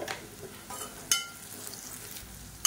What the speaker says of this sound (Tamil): இப்போ வெங்காயம் லேசாக வதங்க ஆரம்பிச்சிருச்சு